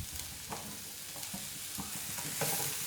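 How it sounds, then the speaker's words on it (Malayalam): Chicken masala being stirred in a tawa pan for tawa chicken fry, with chopped onion added; a steady sizzle runs throughout, broken by repeated scraping strokes of the spoon, fairly close and moderately loud. "ഒന്ന് ഇളക്കി കൊടുക്കാം."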